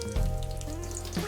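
Thinly sliced onion fries in hot oil with tempering spices, a short close sizzling crackle with a few small pops, heard without any voices.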